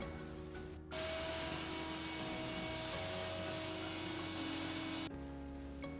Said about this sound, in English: Now it's just time to clean it all up, vacuum the floors